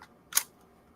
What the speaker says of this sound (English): that lens motor is loud